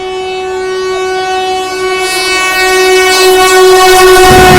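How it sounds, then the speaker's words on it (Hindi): Agra–Banaras Vande Bharat Express passing at speed, a loud sustained horn blast ringing over steady rolling rail noise that swells as the train draws near. "वहाँ देखो सामने से आ रही है आगरा बनारस वंदे भारत एक्सप्रेस।"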